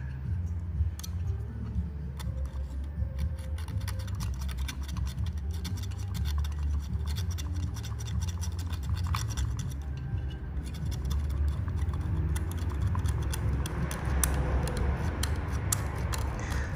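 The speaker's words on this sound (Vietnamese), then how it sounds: "Đây em sẽ cạo ra để anh em tham khảo nhé." A blade scrapes steadily at the coated copper winding of a 12V brushless ceiling fan motor, making a long run of dense, close scratching ticks with a low hum beneath.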